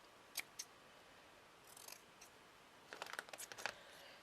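Scissors cut a small square of striped material in a few quiet, close snips, first two isolated clicks, then a soft rustle and a quick cluster of cuts.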